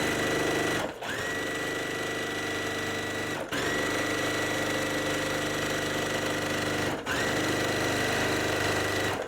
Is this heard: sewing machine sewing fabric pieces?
yes